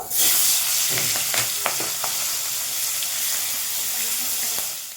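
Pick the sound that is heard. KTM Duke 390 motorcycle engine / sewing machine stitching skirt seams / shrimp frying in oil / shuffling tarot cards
shrimp frying in oil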